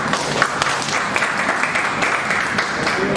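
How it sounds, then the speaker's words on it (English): A conference audience claps loudly and steadily, a dense wash of many hands close by with no voice over it. "So first of all, a big round of applause."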